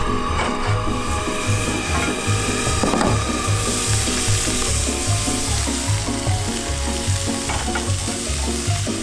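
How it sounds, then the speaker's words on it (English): Green beans sautéing with garlic and butter in a pan sizzle and crackle steadily and fairly loudly, with a constant frying hiss throughout and no voices. "once you get them well sauteed up with some garlic and butter, doesn't matter if they're fresh or frozen"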